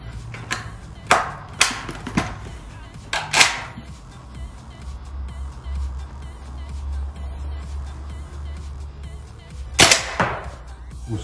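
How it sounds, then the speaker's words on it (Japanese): A VFC/Umarex H&K PSG-1 gas blowback airsoft sniper rifle shoots at a small metal target about 20 m away: several sharp, close cracks in a loose cluster, then a long gap with low background rumble before another pair of shots. "これを 20m 先に置いて狙撃できるかチャレンジしてみたいと思います。"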